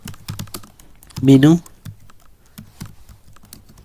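Rapid, close keystrokes on a computer keyboard while Python code is typed, a brisk run of light clicks under someone speaking briefly.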